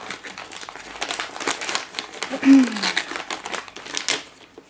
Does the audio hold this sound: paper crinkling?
yes